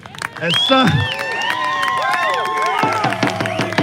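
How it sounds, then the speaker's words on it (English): An audience at a political rally in Red Deer, Alberta cheers and applauds. A sharp shout is followed by sustained whoops and rising and falling yells over a steady bed of clapping at fairly close range. "please give yourselves a round of applause"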